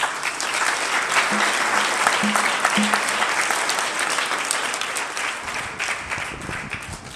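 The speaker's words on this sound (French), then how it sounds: "que je vous prie d'applaudir très fort" A congregation applauds its parish priest and vicar at the opening of a new church in Goudomp, a full, continuous burst of many hands clapping that eases a little toward the end.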